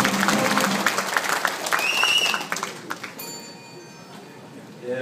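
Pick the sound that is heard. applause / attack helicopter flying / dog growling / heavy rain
applause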